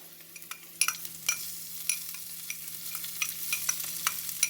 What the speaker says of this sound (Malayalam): ചതച്ച് വെച്ച ഇഞ്ചിയും വെളുത്തുള്ളിയും പച്ചമുളകും ജീരകവും കുരുമുളകും നന്നായിട്ട് വഴറ്റാം.